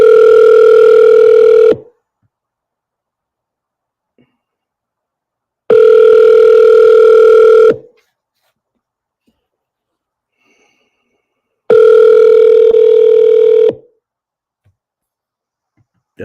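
Telephone ringing tone heard while placing a call, three loud, clean, identical tone bursts of about two seconds each, separated by silent gaps of roughly four seconds.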